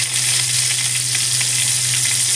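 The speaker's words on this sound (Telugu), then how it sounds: "ఇలా ఒక్కొక్కటి తిప్పుకుంటూ నెమ్మదిగా వేయించుకోవాలి" Chicken keema balls sizzle in hot oil with a loud, continuous crackling hiss and a steady low hum beneath, turned one at a time, with no voices.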